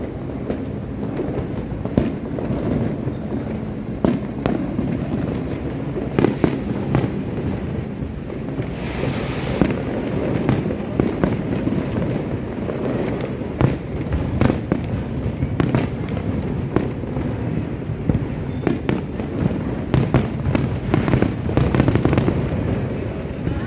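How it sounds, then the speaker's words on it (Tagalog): Fireworks pop and crackle repeatedly in irregular bursts, fairly distant, along the Pasig River Esplanade in Manila, over a steady roaring background rumble. "nabutan din pala natin yung fireworks dito"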